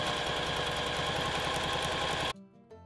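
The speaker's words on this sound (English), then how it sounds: "we're going to sew a seam back stitch at the beginning and end of each line of stitching" A sewing machine runs a seam on a fabric bucket tote bag, giving a close, steady whirring hum with a quick rhythmic stitching chatter that cuts off after a little over two seconds, followed by a few soft clicks.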